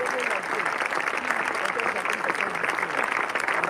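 Congregation at a church service in the Democratic Republic of Congo applauding and cheering steadily, a dense wash of clapping and voices that holds loud and unbroken throughout.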